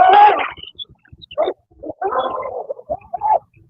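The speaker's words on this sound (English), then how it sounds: "It sounds like a dog barking." A dog gives a few short, rough barks and yelps in quick, uneven bursts, close and fairly loud, with brief silences between.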